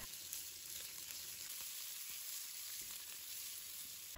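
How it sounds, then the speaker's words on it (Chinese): Pork belly stir-fries in hot oil in a wok, giving a steady, dense sizzle that holds evenly throughout, close and fairly loud, with no talking. "把五花肉炒至卷曲微黄出油脂，香味才浓郁"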